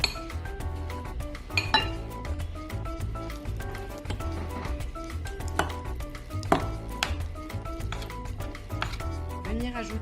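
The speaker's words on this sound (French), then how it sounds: "je vais l'ajouter au chocolat qui a été préalablement fondu. Et on va mélanger le tout" Spoon clinks and scrapes against a bowl as mascarpone is mixed into melted chocolate for a chocolate fondant, a steady run of close, busy knocks with a voice talking over it.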